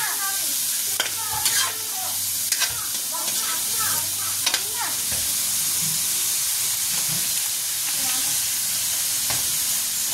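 Mushrooms and corn sautéing in a pan for ginisang mais, with a steady close sizzle and scattered stirring clinks and scrapes, and faint speech here and there.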